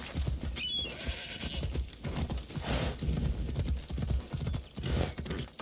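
Horse hooves clip-clop in a steady, uneven rhythm over a dense Assassin's Creed Odyssey game soundscape, with a brief whinny early on.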